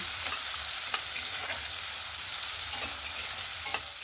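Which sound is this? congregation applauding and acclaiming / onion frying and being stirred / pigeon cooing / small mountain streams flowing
onion frying and being stirred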